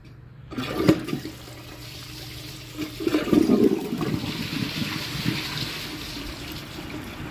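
A Glacier Bay toilet flushes with a sudden gush of water, then a churning swirl that settles into a steady, moderate rush of refilling water, heard close up with no talking.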